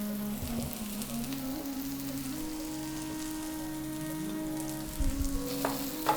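Onions and spices frying in a pan for a mackerel fish curry, a steady soft sizzle running throughout with a few louder bumps and clatters near the end, no talking.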